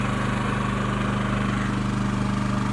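Dual fuel generator running on gasoline or propane, a steady loud engine hum with a fast even throb that holds constant throughout.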